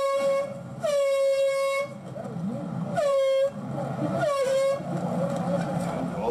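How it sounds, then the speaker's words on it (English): A handheld air horn blasted toward protesters in three loud, sustained honks of about a second each, standing out over a steady background of crowd noise and murmuring voices. "I went and got a horn and I directed it towards them"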